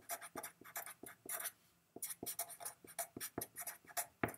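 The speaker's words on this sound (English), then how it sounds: "I'll write that down while I'm thinking about it." Handwriting with a pen, a rapid series of close, scratchy strokes in short bursts with a brief pause midway and no speech.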